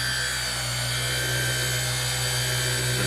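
A Milwaukee cordless polisher runs continuously with a steady, loud motor whine and hum, unchanging throughout the short stretch, used on an intake plenum during detailing work.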